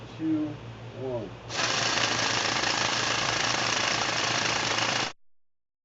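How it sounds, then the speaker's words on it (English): A brief voice is heard, then a loud percussive drill, mounted upside down and coring into vesicular basalt rock, starts abruptly and hammers steadily for several seconds before cutting off. "percussive drill is shown coring in an inverted configuration into a vesicular basalt rock"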